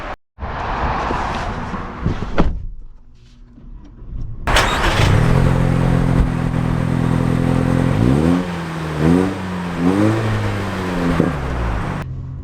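A 2024 Toyota Tacoma pickup truck engine starts after a door thud, then idles and revs repeatedly in several rising and falling surges, loud and close, with no talking.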